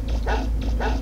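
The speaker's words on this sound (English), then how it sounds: "It's like the most empty-sounding fucking bark I've ever heard" A dog in the Mega Man Legends video game gives two hollow, flat barks in quick succession over a steady low background hum, loud and close, with no talking.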